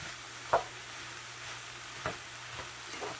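Ground beef stirred in a large pan while cooking for cheesesteak sloppy joes, giving faint scraping and stirring strokes over a low sizzle, with a few soft knocks spaced across the clip.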